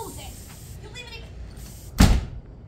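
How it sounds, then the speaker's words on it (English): A door slams shut with a single loud, sharp bang partway through, following quieter room noise and faint talk indoors. "when I say close the freaking door"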